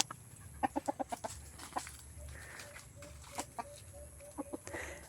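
Chickens clucking at close range in short, uneven bursts, with a few repeated clucks clustered early and scattered calls later over a soft background hum.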